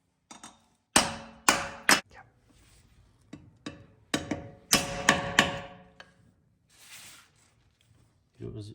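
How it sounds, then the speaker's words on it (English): Sharp metallic hammer blows on a car wheel's lug nut, ringing out, several strikes in quick pairs and clusters, close and loud, with brief pauses between. "I'm gonna try to hammer it from both sides, and then hopefully the lug nut comes off."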